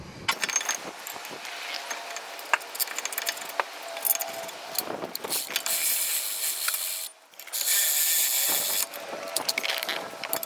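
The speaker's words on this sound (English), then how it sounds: "Installing my caliper mount." Metallic clinks, rattles and ratcheting sounds come from a front brake caliper mount being installed on a 1998 Toyota Avalon, with a louder burst of tool noise near the end.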